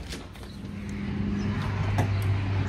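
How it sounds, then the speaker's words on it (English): Street traffic rolls past outdoors at midday as a steady low rumble with a passing vehicle, moderately close and continuous. "There's too much damn traffic right now."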